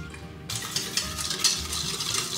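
A spoon stirs sugar, egg yolk and milk together in a pot for a birthday cake, giving a continuous close-up scraping and swishing with no talk.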